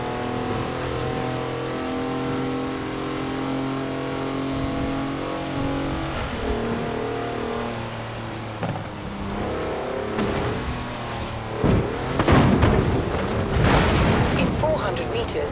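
Engine of a 340-horsepower Mercedes wagon in Forza Horizon 4, droning and revving steadily, then surging harder with rough bursts near the end, loud and close throughout.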